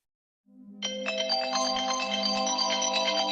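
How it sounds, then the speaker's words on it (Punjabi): A mobile phone ringtone starts up in a home after a moment of silence, a bright melodic electronic tune that swells and then rings steadily and clearly to the end. "ਕੌਣ ਦਾ ਫੋਨ ਆਉਂਦਿਆ"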